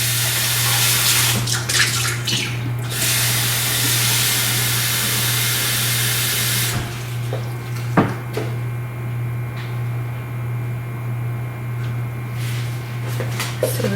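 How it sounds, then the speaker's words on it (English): Water poured from a quart measure into a soup pot for homemade Zuppa Toscana, a loud steady gush for about seven seconds, then a quieter trickle over a constant low hum. "I'm gonna add 1 quart of water"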